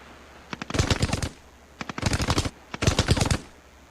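Soldiers in a war film fire automatic weapons in three sharp, rapid bursts of gunfire, loud and close, with short pauses between each volley.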